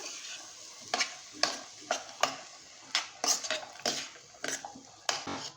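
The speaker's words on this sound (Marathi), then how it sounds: "हे दुधी पण आपण ह्याच्यामध्ये ॲड करून टाकूया व्यवस्थित मिक्स करून घेऊया" Bottle gourd and chana dal being stirred with masala in a pan, giving a series of distinct scraping stir strokes with a light sizzle underneath, fairly close and moderately loud, no talking.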